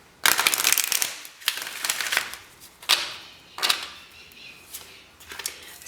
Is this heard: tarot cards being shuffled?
yes